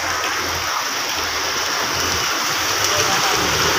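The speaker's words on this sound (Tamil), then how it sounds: "எல்லாரும் மழைக்கு ஓரமாக ஒதுக்கி நிற்கிறாங்க பாருங்க" Heavy rain pours down over a town, a dense, steady hiss of falling water that stays constant and loud throughout, with no breaks and faint background sounds underneath.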